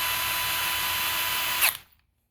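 A 12-volt cordless drill runs at a steady high-pitched whine close by, then abruptly spins down and stops, leaving silence.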